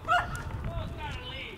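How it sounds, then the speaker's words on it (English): A leashed dog outdoors gives a short, sharp bark near the start, followed by faint yips, with people chatting over it. "Yeah, that's a doggy. Is that a dog?"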